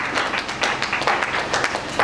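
A church congregation applauds in a brief, dense burst of clapping from many hands, loud and steady throughout, without talking over it.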